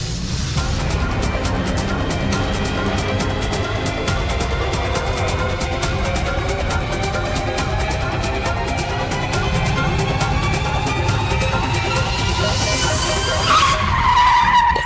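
Tata Sierra EV launching with its tires skidding, a long sustained squeal over a steady roar that rises in pitch and ends in a sharp final screech.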